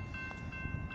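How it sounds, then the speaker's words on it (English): A BNSF freight train rolls up to a grade crossing in Castle Rock, Washington, a steady continuous rumble of rail noise with faint steady high tones over it, close and constant throughout. "here comes a train"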